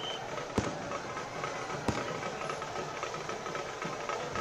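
Fireworks and firecrackers go off outdoors at a celebration of India's cricket win over Pakistan, a steady dense crackle and rumble with two sharper bangs near the start.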